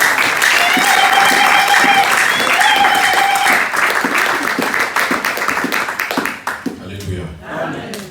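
Church congregation at a Sunday worship service breaks into loud, sustained applause and cheering, dense clapping continuing for several seconds before thinning out near the end, with voices mixed into the crowd noise.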